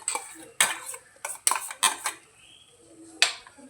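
A spoon scraping and clinking against the pot as yogurt and cashew paste are stirred into katla fish curry, several sharp metallic knocks in quick bursts with quieter gaps.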